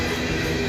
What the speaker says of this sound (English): It's an empty coal train right now.